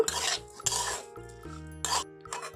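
Susni greens tossed in a pan with mustard oil, a handful of scraping, rattling stirs in short bursts separated by brief pauses, close and fairly loud, with no talking.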